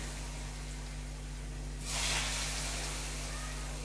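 Paneer pieces dropped into a hot wok with a little turmeric: after a low steady hum, a sudden sharp sizzle bursts out near the two-second mark and keeps hissing to the end.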